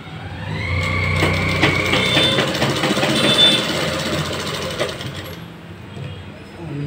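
A sewing machine stitches the waistband seam of a salwar, its motor running in a steady, fairly loud mechanical whir for about five seconds before stopping, with faint room noise after.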